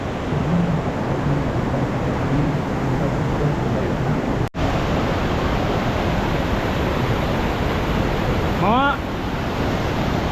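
A large river rushing near Yamunotri in the Himalayas, a loud, steady broadband roar of flowing water close by, with a brief dropout and a faint chirp near the end.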